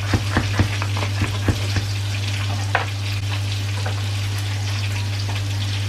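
Onions and diced garlic fry in olive oil in a pan, giving a continuous close sizzle with a few sharp clicks of stirring early on, under a low steady hum.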